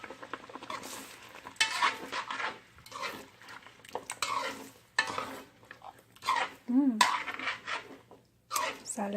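A utensil stirring thick peanut sauce (pâte d'arachide) in a pot, heard as intermittent scraping and clinking strokes between stretches of talking, with a short squeaky sound partway through.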